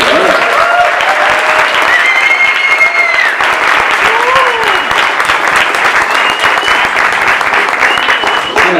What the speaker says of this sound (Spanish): quisiera que le demos un aplauso